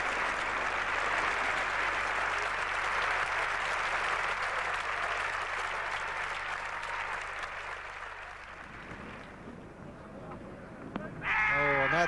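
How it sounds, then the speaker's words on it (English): A cricket crowd at a 1981 Ashes Test applauds a fifty partnership with a broad, steady roar of clapping that fades after several seconds, followed by a brief burst of noise near the end. "And the roar of applause coming from the ground."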